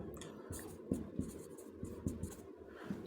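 A sentence being handwritten, pen or pencil strokes scratching on paper in short irregular bursts with small taps, quiet and close, with no talking.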